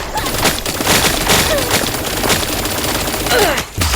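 Rapid bursts of gunfire from the mobile shooter game T3 Arena, loud and continuous with overlapping shots for several seconds before a brief drop near the end.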